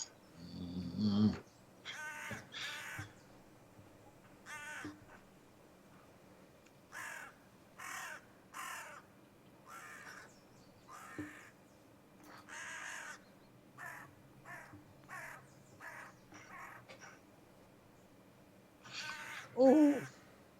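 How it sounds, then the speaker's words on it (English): A crow near a golf green caws over and over in short, evenly spaced bursts, moderately close against a quiet outdoor background. "I think there's a crow suffering from rabies somewhere near the side of the green."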